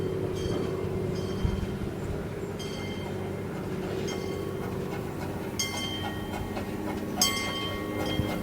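Steam locomotive Torch Lake No. 3 rolling through a station, a steady low rumble of wheels and running gear with faint rail clicks and occasional brief squeals, continuous and fairly close.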